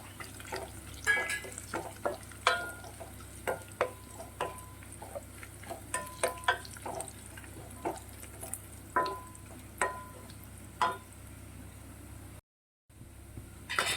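Dried red chillies fry in hot oil in a pan for beef curry, giving a steady low sizzle broken by sharp, irregular stirring scrapes and clinks, close by and without talk.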